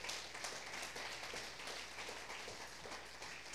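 Continuous, dense applause from a church congregation during a Spanish-language Sunday service, steady and moderately distant, with no voices over it.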